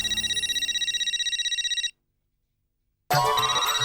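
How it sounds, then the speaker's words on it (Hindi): A mobile phone ringtone trills loudly and rapidly for about two seconds. It cuts to silence, then starts ringing again, close and with no voices over it. "क्या बात है महेश भाई, गलती से फोन लग गया क्या?"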